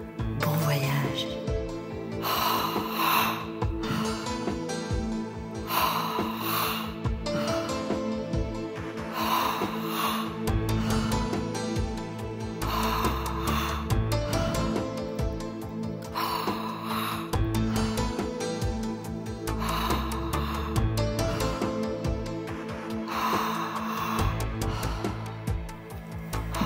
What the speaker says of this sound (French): De belles respirations bien amples. Vous gonflez bien votre ventre, votre poitrine et vous relâchez.